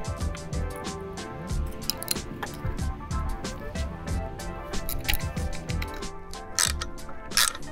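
Volume spacers being threaded by hand onto the air shaft of a RockShox ZEB suspension fork, giving a dense run of close metallic clicks and ratcheting ticks with small scrapes, steady throughout and without talk.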